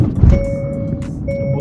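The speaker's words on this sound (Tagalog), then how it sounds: "Tumutunog yung aking sasakyan kasi nadi-detect niyan yung car seat, yung may nakasakay sa front seat." A car's warning chime sounds, detecting a car seat or passenger in the front seat: a loud, steady electronic tone plays, pauses, then resumes, close by inside the vehicle near a dog park in Winnipeg, Manitoba.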